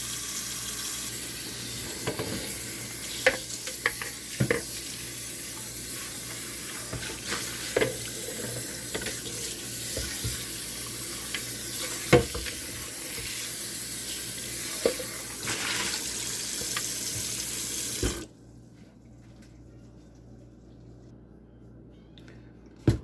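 Tap water runs steadily into a kitchen sink during washing up, with scattered clinks and knocks of dishes, continuing for most of the stretch before the flow cuts off abruptly, leaving near silence.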